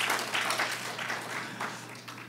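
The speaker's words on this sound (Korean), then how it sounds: "우리 뜨겁게 격려의 박수 한번 올려드리겠습니다" A church congregation applauds its choir after a hymn, a warm, dense wash of clapping with slight swells. The applause is fairly loud throughout over a steady low hum from the room.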